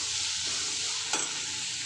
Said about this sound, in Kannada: ಒಂದು ಮೀಡಿಯಮ್ ಫ್ಲೇಮಲ್ಲಿ ಇಟ್ಬಿಟ್ಟು ನಾವು ಇದನ್ನು ತೊಂಡೆಕಾಯಿನ ಫ್ರೈ ಮಾಡ್ಕೊಳ್ಳೋಣ.